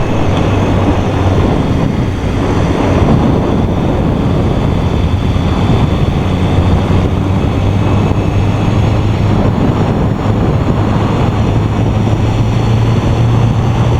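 Steady, loud road and wind roar from a 2015 BMW S1000RR motorcycle cruising on the freeway, with a low engine drone running continuously throughout and no voices.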